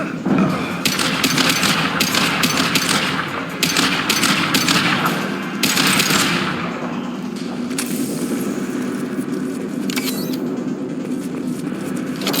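Gunfire in Mass Effect 2 Legendary Edition combat, repeated rapid bursts of loud automatic shots with short pauses, over a constant game background.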